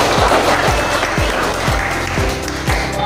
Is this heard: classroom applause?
yes